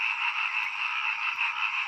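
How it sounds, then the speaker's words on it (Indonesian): Dense, continuous chorus of frogs croaking, a steady buzzing trill with slight pulsing that fills the whole stretch at moderate loudness, with no voices. "Semakin jelas suara kodok itu, semakin jelas dan terasa hati ini"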